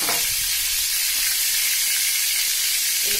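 Shrimp fry in hot oil in a pan, giving a loud, steady, close sizzle that runs unbroken throughout with no voices.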